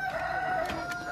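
Rooster crowing at a poultry market in Osh, a clear, moderately loud call with steady harmonic tones and no talk over it.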